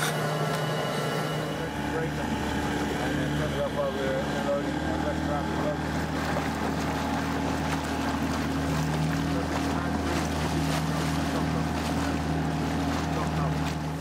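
An inflatable expedition boat heads ashore at subantarctic Auckland Island, its outboard engine droning steadily and close alongside wind buffeting and water noise, with voices speaking over it.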